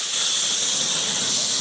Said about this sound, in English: Is that the steam from the Insta-pot?